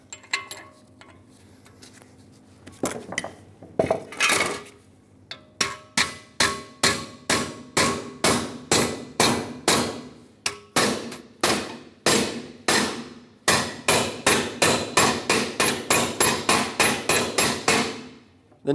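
Steady series of sharp hammer blows driving a new rear brake backing plate down on a 2003-2009 Dodge Ram 2500, a few irregular knocks at first, then rapid evenly spaced metallic strikes, loud and close with no talking.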